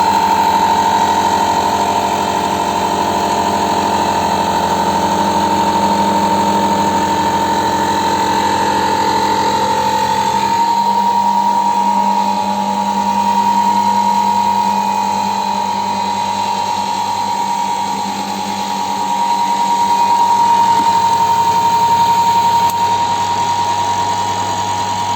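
A glass edge machine with a special chamfering and edge-polishing wheel grinds glass, giving a steady whining drone with a high ringing tone that shifts and softens partway through as the wheel works the edge, alone without talk.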